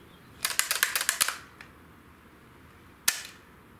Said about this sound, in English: the right hand gripped the bolt handle, cycling the bolt back and forth multiple times to ensure the magazine was empty